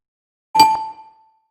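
A single bright notification bell dings once, clear and close, then rings out and fades within about a second.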